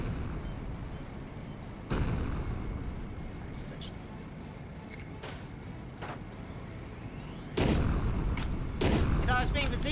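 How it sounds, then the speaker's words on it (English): Explosions and crashes burst out during a high-speed motorcycle combat race in the video game Road Redemption, with sharp booms near 2 s, 7.5 s and 9 s over a steady engine roar. "But it's even better than Rainbow Road because explosions."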